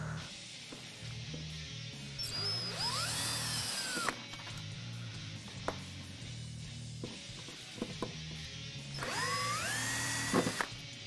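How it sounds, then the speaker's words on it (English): A power drill backs out the taillight screws on a Jeep Wrangler JK, with two whirring bursts whose pitch rises as the motor spins up, separated by softer handling clicks and a low background hum, fairly close. "Just remove the four screws on the taillight."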